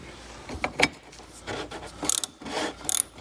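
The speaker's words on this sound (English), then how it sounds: "we'll use our tool to snug it down on that gasket" An oil filter wrench turns and snugs down an 86 mm oil filter against its gasket, with close, uneven bursts of ratcheting clicks and metallic scrapes between brief pauses.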